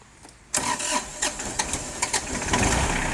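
An old Japanese Iseki SIAL 243 tractor engine cranks and catches, then settles into a steady, rough mid-pitched idle with small irregular knocks, fairly close and loud.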